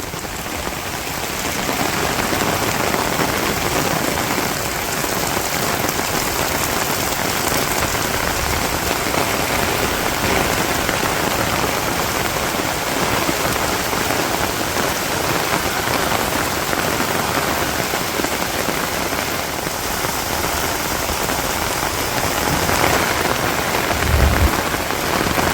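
A long, unbroken downpour drums on surfaces around a rural Bangladeshi home, a full, close hiss of rain holding steady at the same loudness, with a brief low thump near the end and no talk.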